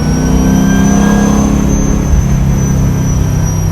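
A supercharged 427 Chevy Chevelle SS restomod engine pulls steadily under partial throttle, a loud, continuous low drone with a rising whine, close and alone without talk.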